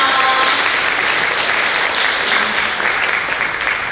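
Steady applause from a sizable crowd welcoming architecture and landscaping experts at a biennale forum, continuous clapping at an even level with no voices over it.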